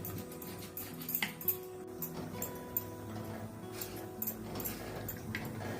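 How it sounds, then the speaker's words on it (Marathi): A knife chops raw mango on a board, giving a few irregular light taps and clicks at close range, faint against a steady background hum. "हे बघा आता मी कैरी कापायला घेतली."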